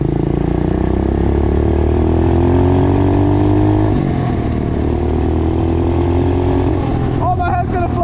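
A pit bike engine revs loud and close as it is ridden, the pitch climbing steadily, dropping at a gear change, then climbing again, with voices talking over the engine.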